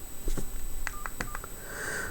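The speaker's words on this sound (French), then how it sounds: "la particularité aussi, par exemple, c'est que les touches vont parler" Keypad tones from a Mobiho Clap Facile big-button mobile phone, a few short beeps as keys are pressed, then a longer sustained tone, clear and close with no talk.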